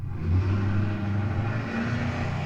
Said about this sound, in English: another monster truck driving by